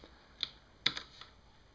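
A few sparse keystrokes on a mechanical keyboard with Cherry MX Green and White switches, sharp faint clicks spaced irregularly, one pair close together, in a quiet room.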